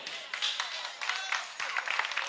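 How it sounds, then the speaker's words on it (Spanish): Studio audience applause for a contestant on an early-1990s television game show, steady broadband clapping from a crowd, fairly close and continuous, with faint voices mixed in. "Un aplauso"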